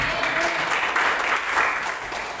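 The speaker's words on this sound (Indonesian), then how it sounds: "Tepuk tangan dong." A church congregation breaks into applause during a worship service, a steady wash of clapping that holds at an even level throughout with no voices rising above it.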